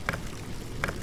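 Two short, crisp clicks from the video game Infra, spaced under a second apart, each a brief isolated tick over a quiet, steady background hum.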